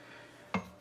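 A spoon stirs keto chili in a slow cooker, giving a single short clatter against the pot partway through after near silence.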